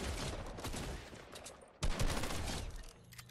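Gunfire in Fortnite, rapid continuous shots with a sharp louder burst partway through, close and intense with no talk over it.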